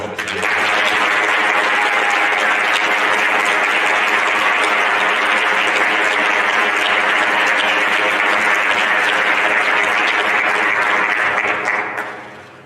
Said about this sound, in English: I want to give them a huge applause and thank you for all they've done.